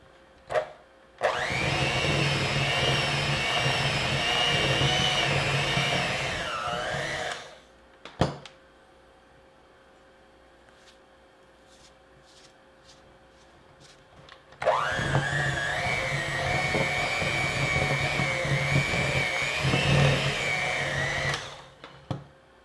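Electric hand mixer beaters whirring through eggless chocolate chip cookie dough in a bowl, a steady loud motor whine running for several seconds, then a pause with faint knocks, then a second long burst of mixing.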